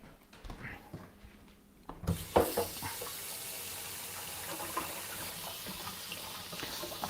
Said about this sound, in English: I'm going to rinse off this wooden spoon